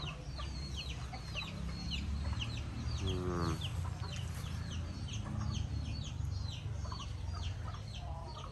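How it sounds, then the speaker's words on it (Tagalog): Chickens cluck repeatedly at close range on a farm over a steady low background hum, with scattered short calls throughout and a brief rising squawk midway. "marinig mo na yung ano ng mga manok"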